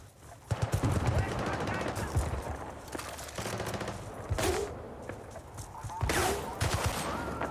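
Automatic and single gunshots in Battlefield 6 multiplayer, rapid bursts and sharp cracks firing in clusters with loud, busy battlefield noise and a voice talking over the action.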